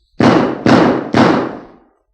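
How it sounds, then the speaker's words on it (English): Three loud, booming gunshots in quick succession in a Spike Jones recording of "Dance of the Hours," following harp and flute passages, each with a long decaying rumble, ringing out without any talk. "followed by a series of gunshots"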